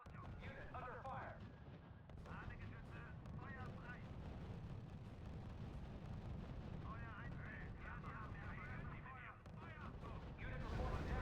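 Artillery and gunfire rumble continuously through a battle in the R.U.S.E strategy game, a steady dense roar under intermittent voice announcements, with louder thumps near the end.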